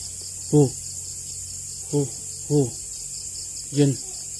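Four short, harsh croaking calls from a tokay gecko, spaced irregularly over a few seconds against a steady background hum of insects, at a cemetery.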